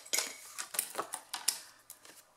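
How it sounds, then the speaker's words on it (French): Small squares of cardstock are snipped with scissors, a series of about a dozen crisp, close cutting clicks at an irregular but steady pace, with no talking. "Donc je prends les deux plus petits carrés de cardstock et je vais commencer par couper"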